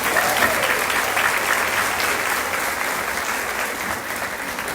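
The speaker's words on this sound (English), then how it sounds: "give all them people a big round of applause" Sustained applause from an audience at a festival queen's pageant, a dense even wash of clapping that holds steady throughout with no voices above it.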